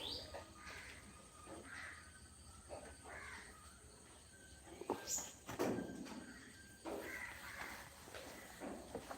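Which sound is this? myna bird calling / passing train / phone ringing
myna bird calling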